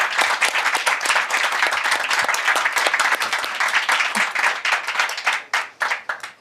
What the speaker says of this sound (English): can I have a round of applause for the very disciplined and good speakers?